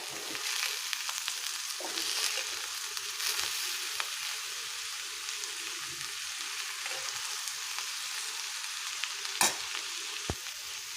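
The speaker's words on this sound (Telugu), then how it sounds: "మొత్తం పసుపు సాల్ట్ కలిసేలాగా ఒకసారి మొత్తం కలిపేసుకోవాలి." Cabbage and egg fry is stirred in a hot pan with turmeric and salt, a soft continuous sizzle broken by scraping strokes and a few sharp taps of the spoon against the pan.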